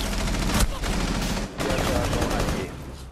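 L85 rifle fire in Rainbow Six Siege, a sustained burst of close, loud shots with one sharp crack standing out and a brief lull before the firing resumes and tails off.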